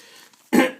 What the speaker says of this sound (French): Je suis vraiment désolé pour le fait de me racler la gorge